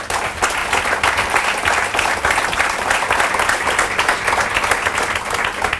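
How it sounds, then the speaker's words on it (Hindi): A large crowd at a motivational training seminar in Mumbai gives loud, sustained applause. Many hands clap in a thick, continuous wash that stays strong from start to finish. "उसके लिए जोरदार तालियां हो जानी चाहिए"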